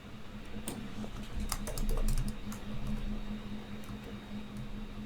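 Fingers tap on a computer keyboard in quick irregular bursts of light clicks over a steady low electrical hum.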